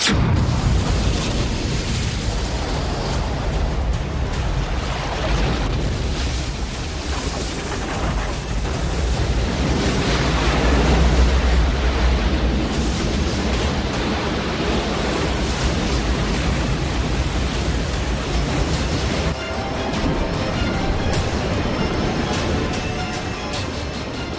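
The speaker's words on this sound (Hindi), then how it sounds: "पहाड़ों के बीच से उठती पानी की गर्जना से लोगों को आभास हुआ कि कुछ भयंकर होने वाला है" A massive glacier-burst flood surges through a mountain valley near Chamoli, Uttarakhand, as a continuous, loud, broadband roar of rushing water and debris that stays heavy and unbroken throughout, with no speech.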